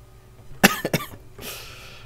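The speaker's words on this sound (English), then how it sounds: "Sorry if I cough a lot, I'm a bit ill." A person who is feeling ill coughs twice in quick succession, one sharp, loud hack followed by a second, then a short breathy trail-off, heard alone without speech.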